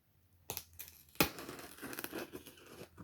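A cardboard box holding a black 2020 Sony SRS-XB33 Extra Bass Bluetooth speaker is sliced open up close, with scraping, crinkling and tearing bursts and one sharp snap partway through.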